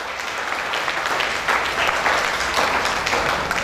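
An audience at a real estate developer's company event breaks into loud, dense applause, a continuous crowd of clapping hands that swells slightly midway.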